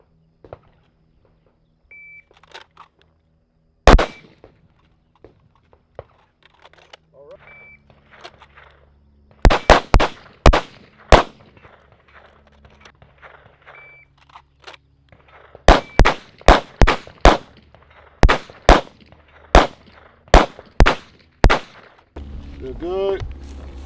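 Rifle shots ring out at an outdoor shooting range during training, sharp loud cracks that come first singly and then in rapid clusters, with quiet gaps and faint beeps between them.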